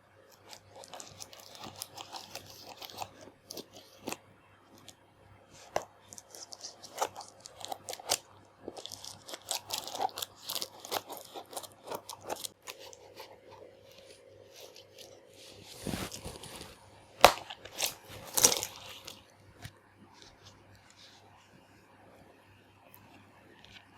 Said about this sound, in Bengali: এটা এখন খুলে দেখবো এর ভিতরে কি আছে।